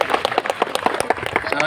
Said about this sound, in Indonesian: Tepuk tangan untuk Sunda Galuh.